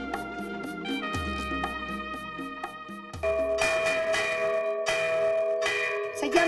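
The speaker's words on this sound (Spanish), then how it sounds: "Se llama a los muertos, tocan las campanas." Church bells ring for Day of the Dead in Mexico, a repeated rhythmic peal of several bells striking in quick succession, with a richer, louder layer of tones joining partway through.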